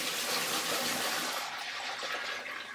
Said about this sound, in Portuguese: Agora eu vou tirar essa água.